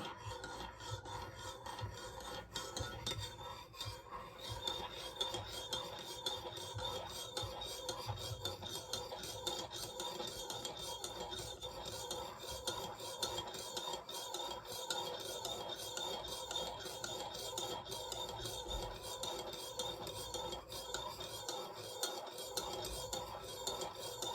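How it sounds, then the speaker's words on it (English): A spoon stirs clockwise in a cup of tea, making a continuous quiet scraping and clinking rasp that repeats steadily for the whole stretch, close up and faint, with no voices. "we were going to stir this clockwise and put my intentions in my cup of tea"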